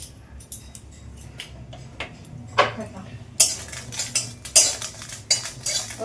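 A spatula scrapes and taps in a hot wok, breaking dried red chillies with sharp metallic clinks and scrapes that grow busier and louder after the first few seconds, with a faint sizzle.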